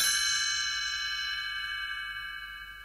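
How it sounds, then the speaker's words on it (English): A page-turn chime for a Gremlins read-along book rings once, a bright bell tone that sustains and slowly fades, clear and alone. "You will know it is time to turn the page when you hear the chimes ring like this."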